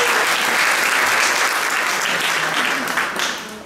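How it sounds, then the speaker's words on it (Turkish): An audience at a Mother's Day event held by the Ankara Circassian Association's women's committee breaks into sustained applause. The dense clapping is loud and even, then tapers off slightly at the end. "Onlara da bir alkış rica ediyorum."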